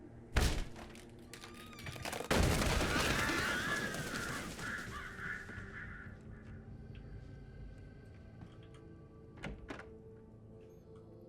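A kick in the video game Alan Wake lands as a single hard thud, followed by a broad, noisy rush that fades over a few seconds, then sparse faint knocks in a quiet room.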